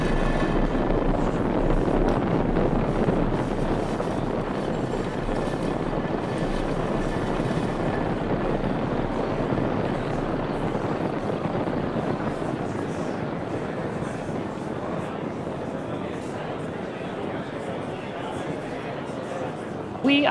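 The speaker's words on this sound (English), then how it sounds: "Falcon 9 has cleared the tower at Space Launch Complex 4 East" A SpaceX Falcon 9 rocket climbs away from Space Launch Complex 4 East carrying Transporter 8, a dense, steady broadband roar filling the whole stretch with a commentator's voice running over it.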